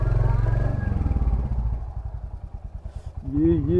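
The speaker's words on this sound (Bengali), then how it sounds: "আশা করি বাইকের আওয়াজও ভালো আসছে" A motorcycle engine idles with a steady low throb, then revs up briefly near the end; it is close and fairly loud.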